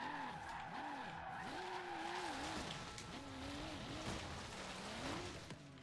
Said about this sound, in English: That was quite a smooth drift, I suppose.